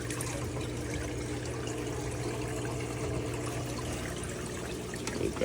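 Water splashes and trickles steadily into an aquarium sump in a recirculating multi-tank fish system, a continuous close wash of falling water with a low hum underneath.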